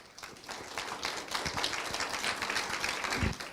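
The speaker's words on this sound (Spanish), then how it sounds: "Damos un fuerte aplauso, por favor" Dense, steady clapping from a crowd, a continuous wash of claps filling the room at moderate volume without pause.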